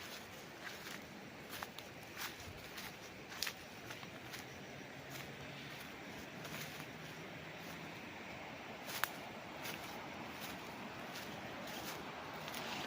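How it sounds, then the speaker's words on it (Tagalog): Steady rushing water of a stream on a sloping farm in Majayjay, Laguna, near a river: a continuous broadband wash with scattered small ticks and clicks, no voices. "nilignan natin yung lagastas ng tubig mga kapraps"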